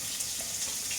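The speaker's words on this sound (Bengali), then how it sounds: "এবার জল দেবো" Water trickles steadily into a bowl holding salt and mustard oil for a steamed pumpkin-leaf dish, a soft, continuous splashing pour with no voices.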